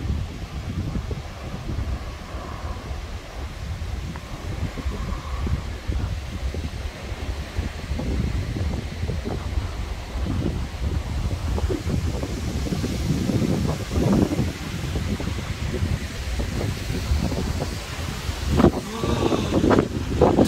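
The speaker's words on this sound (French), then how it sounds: "Oh putain, le coup de vent." Strong foehn wind gusts in a storm, a continuous loud roar buffeting the microphone, with surging gusts and rumbling that swell toward the end.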